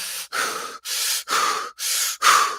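Loud, forced mouth breathing imitated by a man, five or six heavy rhythmic breaths in quick succession, each a rushing gasp separated by brief pauses, close to the microphone with no other sounds.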